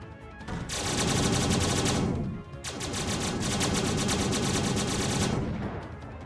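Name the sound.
aircraft weapons and torpedoes firing in Xenonauts, video game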